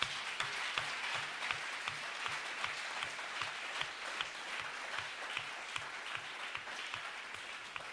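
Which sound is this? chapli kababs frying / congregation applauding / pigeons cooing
congregation applauding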